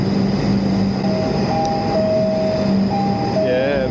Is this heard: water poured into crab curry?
no